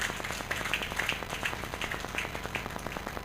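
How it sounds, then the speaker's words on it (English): A church audience applauds at a career clinic, steady dense clapping heard from a distance and fairly faint, with scattered brighter claps standing out. "A round of applause for all of us"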